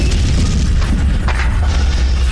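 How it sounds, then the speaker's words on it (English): A huge explosion sound effect from an audio drama, a loud continuous deep rumbling boom that fills the short stretch without a break and with no voices. "a huge explosion rocks the wing."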